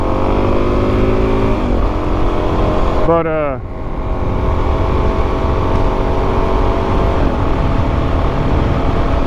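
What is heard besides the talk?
Suzuki DRZ400S motorcycle engine while riding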